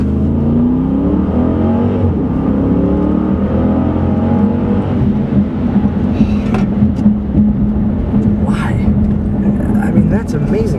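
A Jeep Grand Cherokee SRT-8 surges forward under full throttle, its engine a loud, steady, low roar that builds without pause, with faint wind and road noise rising over the final seconds.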